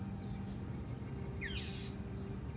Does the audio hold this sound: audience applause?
no